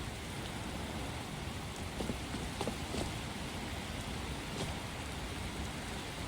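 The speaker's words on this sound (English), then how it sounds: "we got some rain effects" Rain effects in the Skyrim video game: a steady, even hiss of falling rain with a few faint drip-like ticks scattered through, constant and fairly quiet, with no voices.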